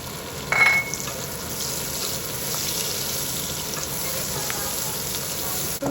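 Ginger paste frying in a pan with a continuous broadband sizzle throughout, a brief louder hiss near the start as it hits the oil, and no talking.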